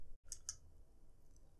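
Two crisp, quiet mouse clicks in quick succession on a computer, short and close with a near-silent background.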